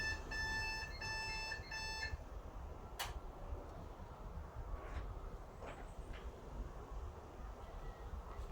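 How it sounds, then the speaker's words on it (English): The alarm at the Northumberland Telescope sounds as a quiet, rapid, steady electronic beeping for about two seconds. It then stops, leaving faint hiss and a few scattered clicks. "be careful, the alarm will sound"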